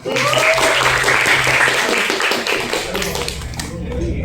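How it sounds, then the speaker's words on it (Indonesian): A classroom of students claps together at a teacher's prompt, a dense, loud burst of hand claps that thins out toward the end. "Tepuk tangan dong."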